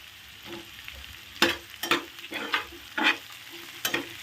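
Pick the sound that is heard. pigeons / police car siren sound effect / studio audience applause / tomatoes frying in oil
tomatoes frying in oil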